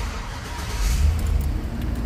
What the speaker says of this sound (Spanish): El auto enciende.